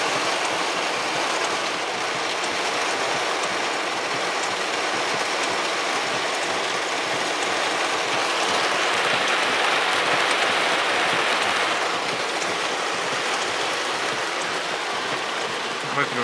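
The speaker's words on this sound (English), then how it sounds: "I really don't know if this is showing just how much water is flowing over the roads" Heavy rain pours as water floods over the roads, a loud, constant hiss and rushing wash heard from inside a vehicle, swelling slightly midway.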